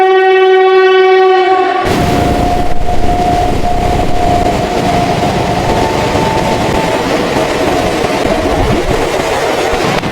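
A cartoon-style local train arrives: a sustained tonal horn sounds alone for about two seconds, then a loud, continuous rumbling roar of the train carries on to the end.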